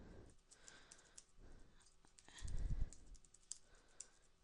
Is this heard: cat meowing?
no